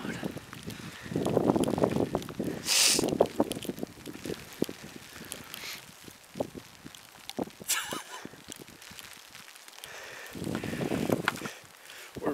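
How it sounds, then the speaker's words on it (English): Gusts of wind buffet the microphone on a cold, snowy outing in bear country, rising in two strong rumbling bursts with softer rustling and scattered knocks between them. "The wind's blowing."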